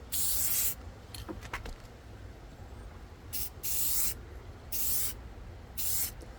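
Short bursts of aerosol matte clear coat sprayed onto a copper penguin figure, four or five hissing blasts of about half a second each, separated by pauses, with faint outdoor wind and the odd camera bump between them.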